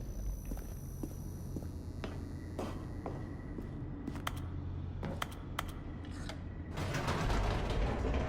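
A door mechanism in The Stanley Parable creaks and clicks. Scattered mechanical taps sit over a constant low hum, and a louder, fuller rumble swells near the end.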